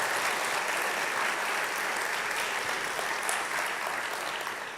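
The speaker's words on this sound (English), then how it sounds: "Let's give him a round of applause" Sustained applause from a school audience at a Holocaust Remembrance Day event, dense steady clapping filling the room for several seconds, loud and unbroken, tapering slightly at the end.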